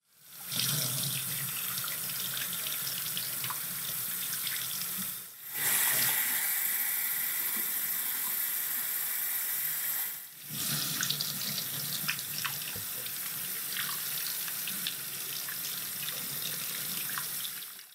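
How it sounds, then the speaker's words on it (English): Running tap water pours steadily into a sink while old leather boots over 80 years old are washed beneath it, a continuous close splashing rush broken by two brief pauses where the flow is interrupted. "we have put these underneath the water and washed a lot of that kind of residual dirt off the surface"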